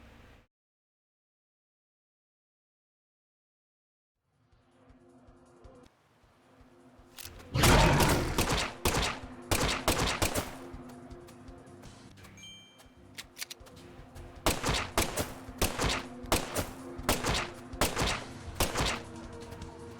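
Pistol shots ring out in the video game Deadly Premonition 2, coming in a rapid, irregular volley of sharp bangs over game noise after a quiet start.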